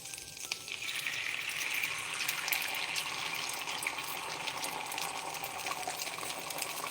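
Batter pours into a hot ceramic pan, making a steady hissing, watery rush that runs evenly for several seconds, close and moderately quiet, with no talking.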